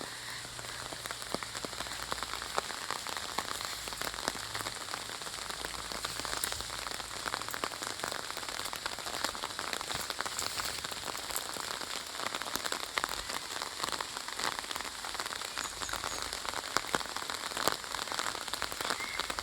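Rain patters steadily on a surface for a long stretch at Chhatna BDO office, with dense crackling drops and no talking.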